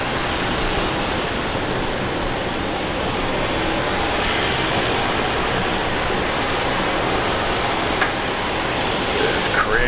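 An Alliance Airlines Embraer E190 jet in full livery at Brisbane Airport, heard as a steady, loud broadband engine roar that holds level throughout, with wind-like hiss over it.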